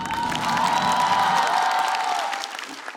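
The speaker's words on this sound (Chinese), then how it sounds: "掌声再给嘻哈" Studio audience at a stand-up comedy show claps and cheers loudly for a comedian, a dense burst of applause with crowd voices that swells and then fades out over a few seconds.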